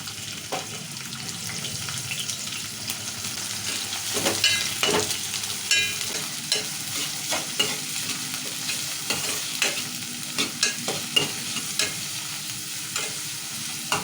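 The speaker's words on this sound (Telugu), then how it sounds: "ఇప్పుడు నూనె వేడైంది, ఉల్లిగడ్డలు వేసుకుందాము" Onions tossed into hot oil in a pan sizzle steadily for the whole stretch, with sharper scraping stirs and clinks growing more frequent toward the end; no voices.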